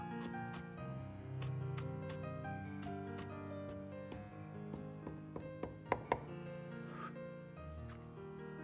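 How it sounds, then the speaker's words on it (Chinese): A kitchen knife chops scallions and cilantro finely on a board, with quick, sharp repeated taps in an irregular rhythm over soft background music, and a few louder strikes near the end. "小葱和香菜改刀切成细末"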